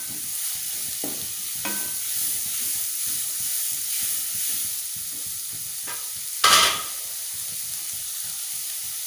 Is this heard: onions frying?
yes